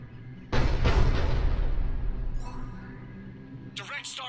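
A ship's cannon fires in the video game Mass Effect 3, one loud booming blast that rolls off into a long fading rumble, followed by a brief voice at the end.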